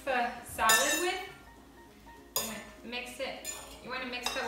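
Two forks tossing and mixing an avocado green bean salad in a bowl, giving a few bright clinks and scraping clatters in two short bursts, close and fairly quiet, with no talk.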